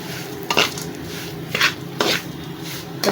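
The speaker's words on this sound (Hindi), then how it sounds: "अब इसमें मैं कुटे हुए बादाम डाल देती हूँ, वो इसके साथ ही मिक्स होकर ड्राई हो जाएंगे।" Crushed almonds and poppy seeds being dry-roasted in a pan for panjiri, with a few scattered scraping and clinking strokes of a utensil against the metal over a low background hiss.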